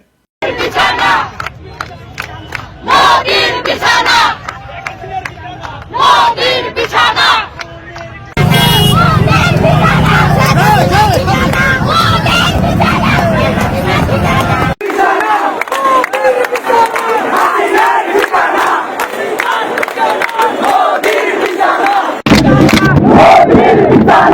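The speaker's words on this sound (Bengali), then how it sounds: "কি কি স্লোগান দিছিল আমার ক্ষুদ্র ভ্রাতার ভগিনীরা, বিপ্লবী ছাত্র জনতা" Large crowd of student protesters in Bangladesh chanting slogans together in loud, rhythmic unison, the massed voices rising into a dense continuous roar that carries through the whole span.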